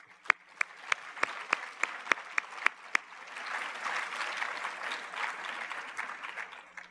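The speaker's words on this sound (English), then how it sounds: "that really ought to get a round of applause" Lecture audience breaking into applause, a string of sharp separate claps quickly swelling into a dense, sustained round that holds steady to the end.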